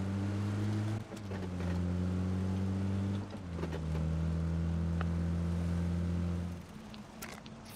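A vehicle in PUBG drives and accelerates, its steady engine drone stepping up in pitch through two gear shifts before easing off near the end, heard alone without talk.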